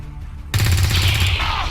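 A short, loud burst of rapid automatic gunfire rings out in the video game XCOM 2, kicking in abruptly after a quiet half second and rattling on continuously to the end.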